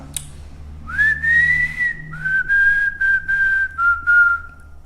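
Someone whistles a steady tune up close, holding one long note and then several shorter notes in a loose rhythm, with no talking.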